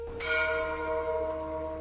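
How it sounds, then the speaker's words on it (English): A church bell tolls once, a clear ringing tone with sustained overtones that hums on steadily at moderate volume. "Even the church bells toll with a tone lacking their former certainty."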